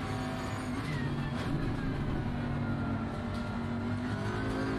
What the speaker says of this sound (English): I get on the gas too soon and I end up oversteering into Clark and pitting myself